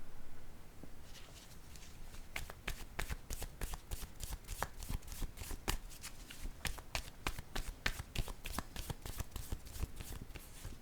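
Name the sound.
shuffling a deck of cards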